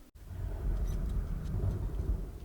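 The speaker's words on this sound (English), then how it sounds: "There's a storm now!" Thunder rolls during a storm in the Call of Cthulhu video game, a deep, continuous rumble that swells and lingers for a couple of seconds with no voices over it.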